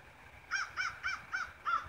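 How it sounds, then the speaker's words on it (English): Five evenly spaced caws from crows ring out on a cold morning walk, moderately distant and clear above a quiet outdoor hush. "and the crows, yes"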